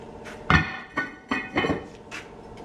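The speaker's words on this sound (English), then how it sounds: "Just gonna hit that rotor with it. Hammer." Several sharp metallic hammer blows strike a rear brake rotor on a 2016 Ford F-150 at uneven intervals, close and fairly loud, with a clanging resonance.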